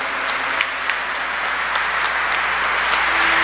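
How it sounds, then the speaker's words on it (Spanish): Congregation at a Catholic Mass for migrants applauding in church, a steady, dense wash of clapping with faint individual claps poking through, sustained and fairly loud for several seconds. "El aplauso más grande para todo lo que es la celebración"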